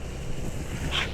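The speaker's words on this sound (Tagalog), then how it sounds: "Ang hangin." Strong wind buffets the microphone on a cold, high mountain road while riding down on a Suzuki Burgman Street scooter, a steady broadband roar with no talk.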